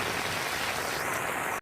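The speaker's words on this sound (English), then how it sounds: "Almost a foot of rain falling in Vero Beach" Heavy rain pouring down in Vero Beach, Florida, a steady, loud, dense hiss of falling water that ends abruptly, no voices.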